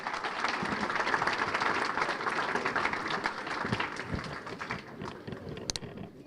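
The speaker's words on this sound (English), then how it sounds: "how about a great big round of applause for the folks here at DeLuca's for the wonderful meal" Banquet audience at a sports hall of fame enshrinement dinner applauding the restaurant staff, a full, steady round of clapping from a large room that continues for several seconds and eases slightly toward the end.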